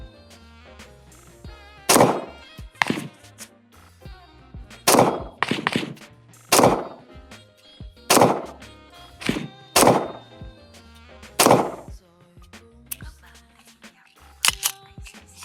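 A CZ P09 Nocturne pistol fires about ten sharp, loud shots at an outdoor range, spaced irregularly at roughly one-second intervals, each a crisp crack with a short ringing tail and faint background murmur between them.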